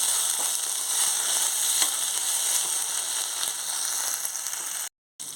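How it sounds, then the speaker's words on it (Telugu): Ginger garlic paste frying in a pan gives a continuous bright sizzle close up, with faint clicks of stirring scattered through, a short dropout near the end, no talking. "అల్లం వెల్లుల్లి పేస్ట్ కొంచెం వేసుకోవాలి ఇది వేసుకున్న తర్వాత ఒకసారి కలుపుకోవాలి"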